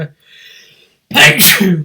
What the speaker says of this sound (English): got a bit of a sneeze